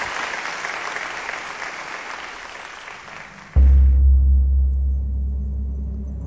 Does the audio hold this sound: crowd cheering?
yes